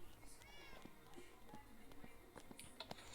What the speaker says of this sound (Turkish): Şurada kedi var.